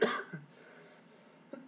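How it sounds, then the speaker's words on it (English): A man gives a single short cough right at the start, then there is near-silence and a faint throat sound near the end, with no talking. "I got a little cough today"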